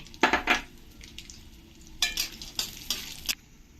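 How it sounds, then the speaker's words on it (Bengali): Short bursts of crackling sizzle from a pan, with a pause between, as cashews and raisins fry in ghee while being stirred. "এবার এই কাজু কিশমিশগুলো একসঙ্গে ভেজে নেব"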